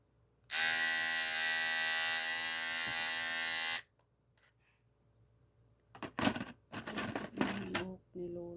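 A USB electric hair clipper runs close by with a loud, steady high-pitched buzz for about three seconds, then switches off; afterward a person talks in short phrases.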